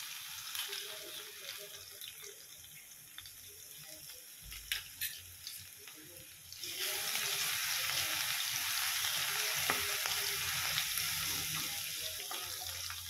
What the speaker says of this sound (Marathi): लसूण छान लालसर होईपर्यंत भाजून घेऊ।